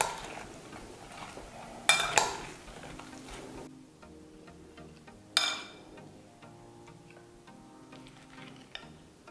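Radish salad being stirred in a bowl, with a couple of sharp clatters of utensil against the dish and lighter clinks and taps in between, close up with no talking.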